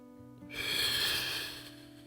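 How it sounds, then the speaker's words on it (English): One breath taken while rolling back and rocking up in a Pilates exercise, a single close, airy exhale that swells and fades over about a second against quiet background hum. "Exhale up"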